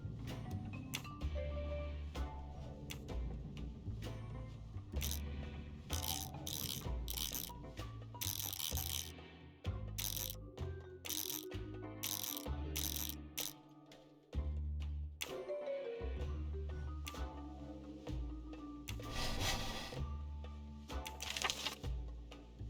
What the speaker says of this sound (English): sewing machine is working